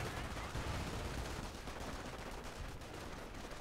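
Machine guns rattle in a World War II real-time strategy battle in Company of Heroes, a dense, continuous, fairly faint clatter of gunfire blended with battlefield noise, without any clear speech.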